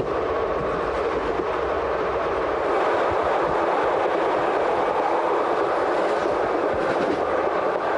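A train runs steadily through a Swiss valley near Lötschberg, heading up toward Kandersteg, with a continuous loud rumble and rolling wheel noise filling the whole stretch, faint clickety-clack beneath it.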